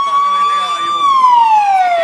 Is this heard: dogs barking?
no